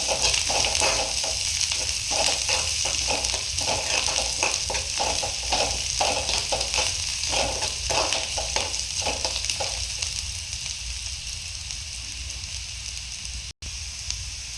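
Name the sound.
onions frying until golden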